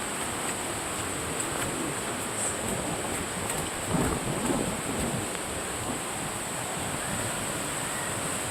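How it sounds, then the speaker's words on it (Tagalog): Steady wind roars across the microphone, a constant broad rush that swells briefly midway. "Medyo mahangin dito."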